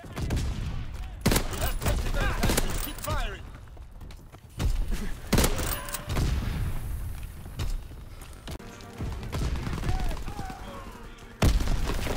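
Rapid bursts of gunfire from a Call of Duty match, repeated volleys and booming shots close and loud throughout, with a player talking over the action.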